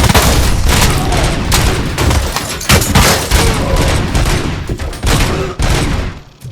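Heavy, sustained gunfire in the RoboCop: Rogue City video game pounds on loud and close, with dense rapid shots and booming impacts that barely let up before trailing off at the end.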